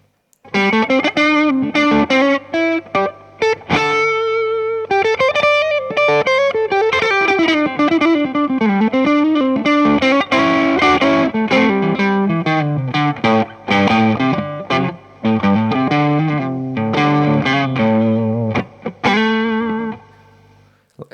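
An electric guitar through a JHS Bonsai overdrive pedal on an 808-style setting, with overdriven, slightly compressed tone, plays a long, busy passage of chords and runs, loud and continuous with no talking.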